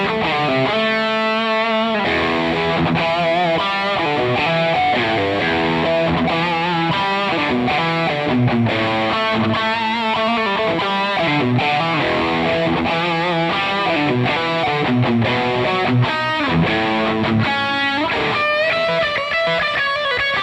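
An electric guitar played through an Amplitube 5 amp simulation with overdrive and reverb, giving a continuous distorted, sustained tone with chords and notes ringing into each other for about twenty seconds, with no talking.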